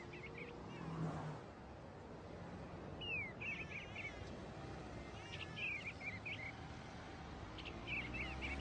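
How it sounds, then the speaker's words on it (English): Bluebird calls sound at a distance: short, soft warbling phrases repeat several times, spaced apart over a faint outdoor background hum. "Sometimes you have to use your ears to know who's there, like this bluebird."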